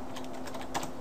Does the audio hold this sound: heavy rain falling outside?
no